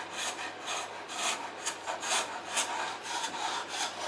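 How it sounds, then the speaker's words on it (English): Homemade hand scraper stripping old varnish from a wooden Smiths Empire 8-day wall clock case, giving repeated close, raspy scraping strokes in an uneven rhythm, fairly quiet and alone. "grabbed my homemade scraper and made a start on it, and it's taken the varnish off really well."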